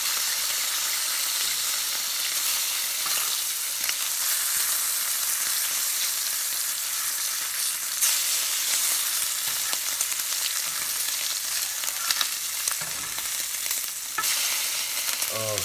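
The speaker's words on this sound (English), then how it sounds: "Oh, look at that hiss, look at that sizzle." Bacon fries in a pan with a loud, dense, continuous sizzle and hiss that holds steady throughout, with a few small pops and crackles and no talking.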